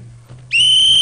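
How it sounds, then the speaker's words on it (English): A police whistle blown in a street scene of a stage comedy: after quiet hum and faint stirring, one long, loud, steady shrill blast starts halfway through and holds to the end. "I'm going to blow this whistle and the whole place will be crawling with cops."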